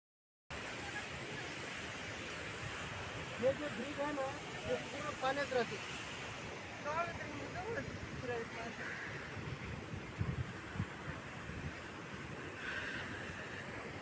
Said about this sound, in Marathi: तीस ते चाळीस फूट उंचावरून कोसळणारा हा धबधबा